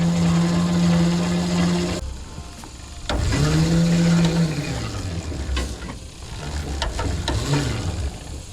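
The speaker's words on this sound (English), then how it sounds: "when I go to reel it up, it's not too far out, so it's not putting too much work on the old motor" A motorized garden hose reel whirs as it winds up a hose beside a lawn, its motor humming steadily with mechanical clicking and ratcheting, stopping briefly and then restarting, loud and close with no talking.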